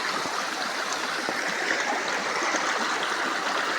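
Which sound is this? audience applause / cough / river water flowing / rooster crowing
river water flowing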